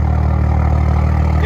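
A Toyota Supra GR with a 3.0-liter inline-six and aftermarket exhaust idles steadily, a loud, deep, even rumble with a low pulsing throb and no revving throughout.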